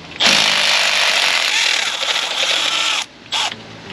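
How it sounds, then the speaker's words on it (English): A power tool spins a bolt out on a GM engine in a loud, close, buzzing burst lasting about three seconds, then stops and gives one short final blip. "I'm gonna take that bolt out."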